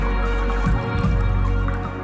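A cocktail of Genmaicha green tea made with toasted rice is thrown from one vessel to another, giving a brief, close splashing pour midway through the clip, with no voices.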